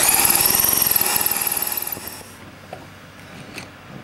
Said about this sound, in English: And we're going to drill it.